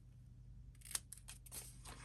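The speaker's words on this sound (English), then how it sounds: "I'm going to just snip those off" Scissors snipping off small pieces of paper during a scrapbook album craft, a few soft crisp cuts spaced across a quiet background hum.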